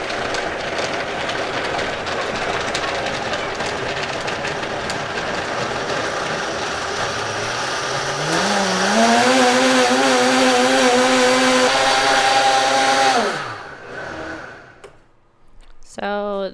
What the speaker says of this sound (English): we go up to the highest speed for 2 minutes. And then that'll get it blended.